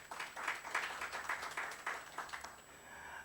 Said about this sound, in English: A round of applause to my panelists.